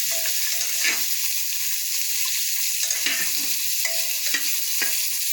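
Onion, ginger and garlic frying in a pan, a close, steady sizzle broken by several scraping strokes of a spatula stirring the pan, with no talking.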